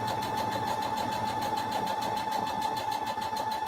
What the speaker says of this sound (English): So, like I said, I'm going to sew very slow.